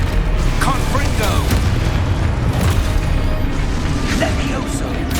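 A Confringo fire spell bursts in Hogwarts Legacy with loud, booming explosions and crashing impacts layered over busy combat effects, while a voice is also heard.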